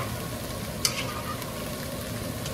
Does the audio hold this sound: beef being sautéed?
yes